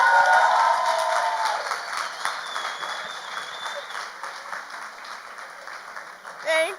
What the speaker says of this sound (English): can I get a round of applause for the amazing, the chief executive of All Labs, Renee Parker.